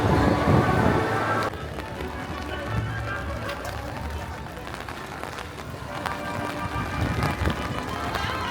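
Pouring rain at Tokyo Disneyland hissing steadily across the park, a dense patter that stays constant throughout with some louder splashing early on, while people talk nearby.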